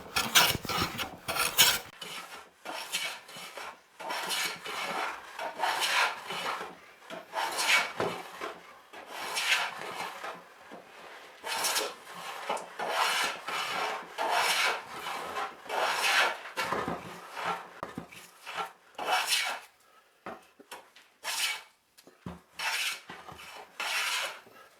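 A hand plane shaving wood off a Telecaster guitar body to flatten it, repeated rasping strokes in a steady rhythm, close and clear with no talking.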